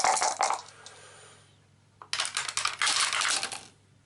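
Three dice rattle and tumble across a table during an Arkham Horror board game, in two bursts of clattering clicks with a short quiet gap between them.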